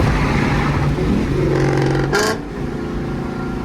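A mostly stock, worn-in Lexus IS F cruising, its engine drone steady with a rising pitch shift as it pulls, then a brief whoosh and a slight drop in level; no talk.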